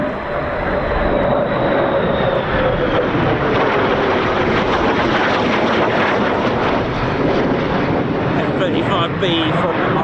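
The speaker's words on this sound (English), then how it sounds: "F-35B from the RAF Fairford." F-35B fighter jet arriving at RAF Fairford for the Royal International Air Tattoo, a loud, close, sustained jet roar with a whining tone sliding downward early on, filling the entire stretch.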